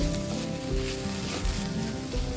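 Gurugaaku greens fry with turmeric in a village-style pan, giving a continuous dense sizzle with faint scraping as they are mixed, steady and close throughout.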